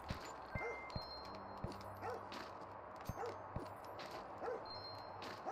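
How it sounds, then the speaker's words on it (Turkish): Dog barking in the video game House Builder, set at the North Pole, with short sharp yips recurring through the clip over a steady game ambience and a low humming background. "Aa, köpek haber veriyor lan bana."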